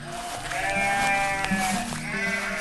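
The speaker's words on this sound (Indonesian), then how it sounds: "Domba yang lucu." Sheep bleating in several wavering calls, fairly close, with a steady low rumble of background noise underneath.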